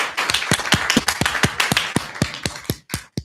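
Sparse, slow handclaps from a small audience after a closing thank-you at a NU model assembly, about a dozen distinct sharp claps spaced irregularly over a few seconds, fairly close and with no talk over them.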